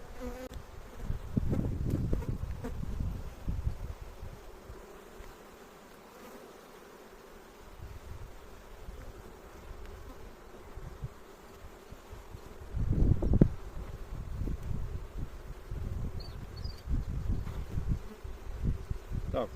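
Steady buzzing of many bees close by, a dense insect hum with louder rustling bursts and handling noises near the start and again later.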